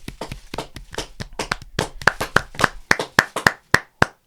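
Hands clap in a steady run of sharp, close claps that start slightly loose and settle into a crisp, evenly spaced rhythm, growing more distinct toward the end.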